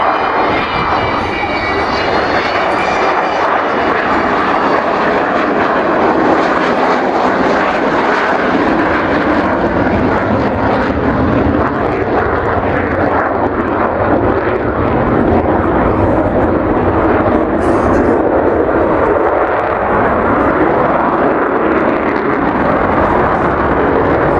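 An Avro Vulcan XH558 delta-wing bomber passes at an airshow with its undercarriage down, its jet engines producing a loud, continuous roar that stays steady and overwhelming throughout.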